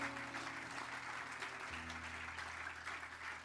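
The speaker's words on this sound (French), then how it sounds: "Est-ce qu'on peut applaudir le Seigneur ce matin en terminant?" A church congregation applauds during a Sunday morning service, sustained dense clapping throughout at an even, moderately loud level with faint voices underneath.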